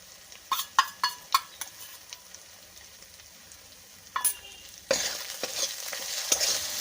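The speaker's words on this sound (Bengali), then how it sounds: "এইভাবেই আমি মশলাটাকে কষতেই থাকবো।" Spice paste is stirred and fried in a pan for a fish curry with peas: a run of sharp spoon scrapes and knocks against the pan, then a louder soft sizzle with further stirring clatter.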